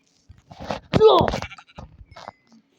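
A Minecraft sheep bleats loudly, a wavering nasal cry in the middle of scattered clicks and game noises, with fainter bleats around it.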